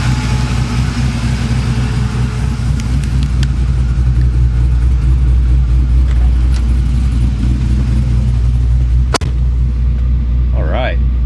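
A steady, loud truck engine drone with deep low rumble, held at about 2,000 RPM throughout, with a single sharp click near the end.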